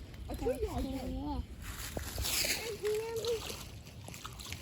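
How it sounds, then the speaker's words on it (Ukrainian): Water splashes and sloshes near a fishing spot by a pond or river, with a few irregular close splashes while voices talk over them. "То ти там булькаш?"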